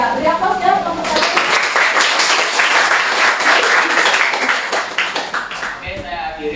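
A class of high school students applauds a student group, a dense, loud burst of clapping that keeps going for several seconds and then thins out toward the end.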